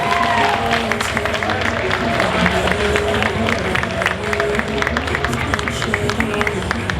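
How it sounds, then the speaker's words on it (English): A convention crowd at a cosplay showcase applauds a Mimikyu cosplayer from Pokémon with steady, sustained clapping and some cheering that fills the whole stretch evenly and loudly. "Big round of applause for Mimikyu."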